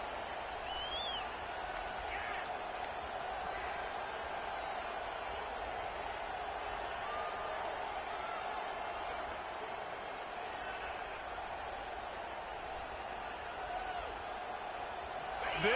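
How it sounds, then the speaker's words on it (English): Stadium crowd roar in the College Football 26 video game, a steady, dense wash of cheering and noise that holds at an even level throughout, with faint whoops rising out of it. "This crowd ready to make its presence known."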